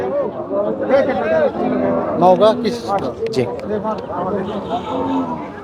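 Cattle, including bulls, at a busy livestock market in Naogaon, with occasional moos and shuffling amid a crowd of people talking and calling nearby.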